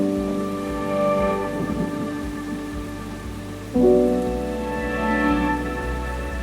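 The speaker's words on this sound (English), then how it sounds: "यहाँ हो गई है बहुत तगड़ी बारिश" Heavy rain pours steadily in Nepal, a dense hiss with a rumbling low undertone and a sudden louder surge partway through.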